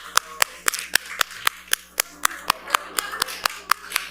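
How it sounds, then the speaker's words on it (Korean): Congregation in a church service clapping in a steady, evenly spaced rhythm of sharp claps, moderately close, with faint background murmur. "마지막으로 한 번 더 박수 해주시고"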